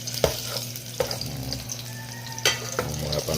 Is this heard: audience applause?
no